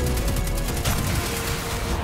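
Sustained shooting in a Destiny Kingsfall raid, a dense, loud barrage of rapid gunfire rolling continuously from start to finish with booming low rumble.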